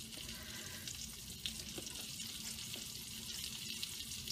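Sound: chanterelle mushrooms frying in butter in crab pan

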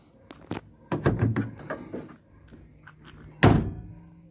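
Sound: Fiat Fiorino rear door lock clicking into place

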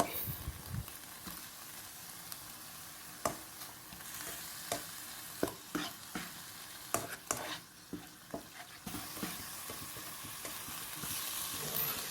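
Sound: minced pork stir-fried in a pan without oil

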